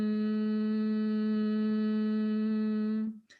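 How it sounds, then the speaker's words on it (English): Soft sustained vocal hum held on one steady low pitch for about three seconds as a gentle warm-up, then stopping abruptly, with nothing else around it. "make a very, very gentle humming sound."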